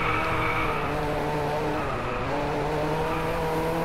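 A RUF CTR3 Clubsport hypercar rated at 766 bhp drones steadily through its engine in the racing game Driveclub on PS4, a constant close, loud hum with no pauses.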